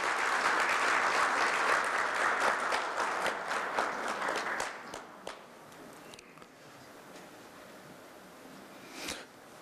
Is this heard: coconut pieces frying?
no